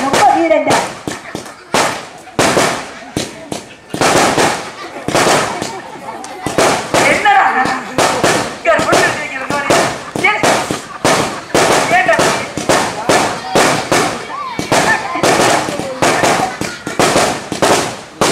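Firecrackers burst in rapid, loud, irregular volleys of sharp cracks and pops for the whole stretch, with people talking underneath.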